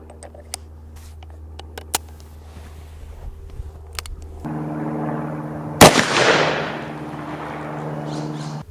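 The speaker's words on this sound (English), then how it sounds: "500 Smith & Wesson Magnum, 440 grain cast." A single loud, sharp gunshot from a .500 Smith & Wesson Magnum firing a 440-grain cast bullet into ballistic gel cracks once amid a steady low hum, followed by a lingering rumble and echo.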